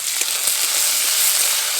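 Tomato, onion, dried chilli and ginger frying in a kadai, with a steady close hiss of sizzling oil and a few faint clinks of stirring.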